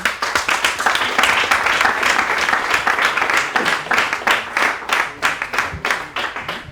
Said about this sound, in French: S'il vous plaît, applaudissez encore Noémie, Eliane, Mika et Flora.